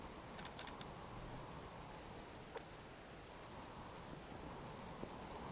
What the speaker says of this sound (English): It should be okay to be out in the rain